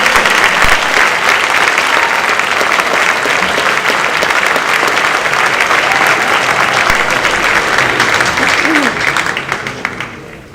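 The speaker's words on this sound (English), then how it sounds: "Again, let's applaud this great number of students." Sustained applause from an audience at a high school academic excellence awards ceremony, steady and loud for about ten seconds before tapering off slightly at the end.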